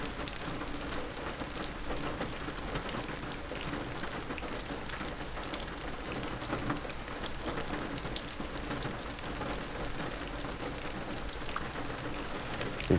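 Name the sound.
rain falling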